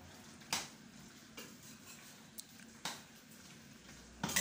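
Chicken gizzards cooking in a pot, a low steady simmer broken by a few scraping stir strokes and utensil clinks, close by and without talk.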